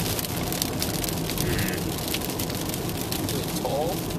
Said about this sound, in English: It's still raining pretty hard.